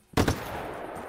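A single gunshot in the video game Just Cause 3, a sharp close crack with a quick double burst that then trails off into a fading echo.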